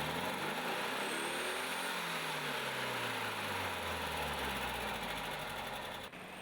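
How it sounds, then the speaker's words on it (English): A 1976 VW Beetle with a 1200 cc, 40-horsepower air-cooled engine runs steadily and close by, a continuous low droning hum with slowly shifting tone and no voices over it. "VW Beetle 1976 model is powered by a 1200 high combustion engine, which produces 40 horsepower"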